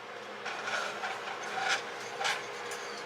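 Ginger, garlic and zest are whisked into orange juice in a bowl, a soft repeated scraping and rubbing with a few brighter strokes, fairly quiet and close, without talk.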